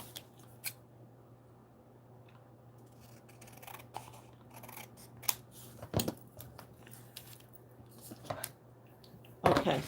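Scissors snip through black cardstock in scattered short cuts over a steady low hum, quiet and close, with a louder crisp burst near the end.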